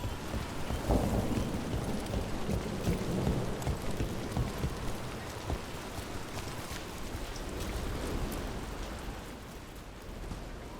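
Steady rain pours down in a dark fantasy game world, with low rumbles of thunder rolling underneath, a dense continuous wash of drops that swells early and holds at a constant level throughout.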